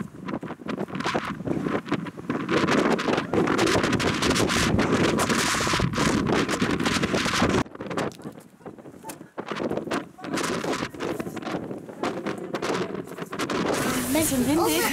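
Strong wind in El Chalten, Patagonia, buffeting a parked 8-ton truck camper: a loud, roaring, gusty rush with buffeting dips and bursts, people talking over it.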